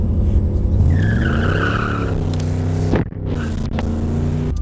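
A car with a slipping 700R4 automatic transmission pulls hard through the 1-2 shift, its engine note climbing loudly with tires squealing, then a brief dip and a renewed rising drone, close and continuous.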